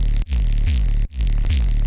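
A clean, unprocessed sub bass plays in two loud, deep pulses with short breaks, its low tone sliding downward in pitch.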